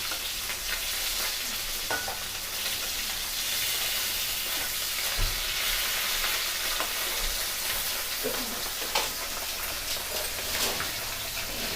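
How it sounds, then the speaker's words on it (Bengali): Close, steady crackling sizzle of parshe fish frying in oil, with scattered pops and a few soft clinks as the pieces are turned; no one speaks. "ঠিক মাছটা ভাজা হচ্ছে,"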